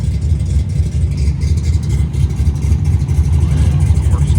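Hughes Whiplash Cuda drag car on a drag strip, its engine running with a loud, steady, rumbling roar that holds constant without a break or any voices.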